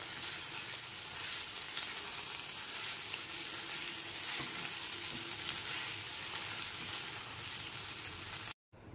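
Pumpkin and drumstick curry sizzling softly in a pan as it is stirred from top to bottom, a steady close frying hiss with faint scraping, no voices, ending in a brief cut to silence.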